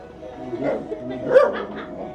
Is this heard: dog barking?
yes